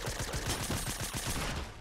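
Rapid, dense gunfire in the video game Fortnite, an opponent's shotgun blasts crackling in a tight, continuous burst for nearly two seconds at moderate loudness with no talk.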